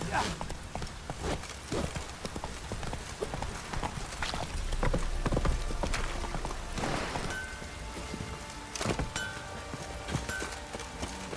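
Horse hooves clip-clop on the ground in The Witcher 3 video game, a steady close rhythmic trot with some game ambience and faint voices underneath.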